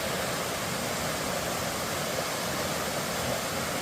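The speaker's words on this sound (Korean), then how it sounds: "폭포에서 흘러내려오는 물이" Water pours down a waterfall in a winter valley with ice on the rocks. It makes a steady, dense, full-range roar that stays even and loud throughout, with no voices.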